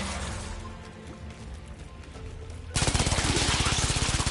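Rapid automatic weapon fire shooting at an Infested hive in the video game Warframe, a loud, steady burst of closely spaced shots that starts abruptly partway through after a quieter stretch of game ambience.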